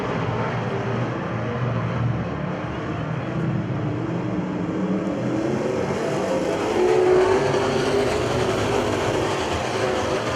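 Street stock race cars circling a track in the opening lap of a feature, a steady dense roar of many engines with a rising surge toward the end, heard from trackside with no talking.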